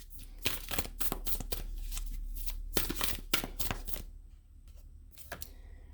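Oracle cards being shuffled, a rapid run of crisp riffling flutters and slaps in quick bursts, close and clear, easing off toward the end with a last soft flick.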